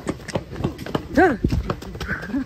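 A black cow runs on sand with hooves thudding in a quick irregular beat like a horse, while people shout and call out over it, including a brief animal-like cry.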